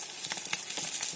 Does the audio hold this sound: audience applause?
no